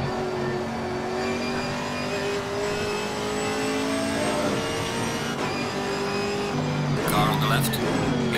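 Chevrolet Camaro GT4.R race car engine in Assetto Corsa Competizione, a steady droning roar with a shifting harmonic pitch as it accelerates, close and loud throughout, rising toward the end with a brief tyre squeal, under someone talking.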